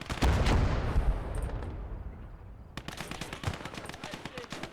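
Gunfire from the World War II game Call To Arms: Gates Of Hell, with a dense loud burst of shots and explosive blasts at first, then a quieter stretch followed by a rapid string of sharp cracks in quick rhythm.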